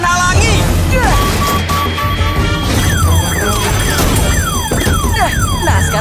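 A car alarm blares close and loud, its repeating sweeping wails and chirps cycling over a constant din, with a crash-like clatter underneath and no voices over it.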